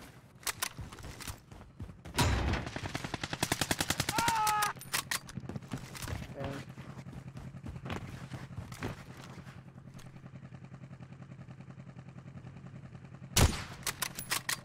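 Gunfire from an enemy in the video game Warzone: loud rapid bursts of automatic shots, dense clusters early and a sharp burst near the end, over a steady game background hum.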